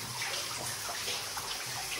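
Water pouring into a flooded abandoned gold mine, a steady, dense rushing and splashing flow that stays even throughout, close and alone.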